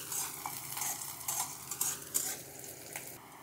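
Garlic fries in a pan with a faint hiss. Light clinks and stirring scrapes of a utensil against the pan come and go.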